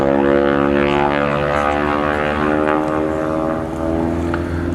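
A Harvard propeller trainer aircraft flying at the 2024 Cosford airshow, giving a loud, steady, throbbing propeller and engine drone that holds nearly constant and dips slightly near the end.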